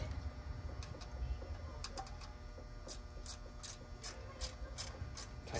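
A ratchet tightening down a part on a Monte Carlo car, with quiet rapid clicking bursts that grow more frequent toward the end, close by over a low garage hum and no talk.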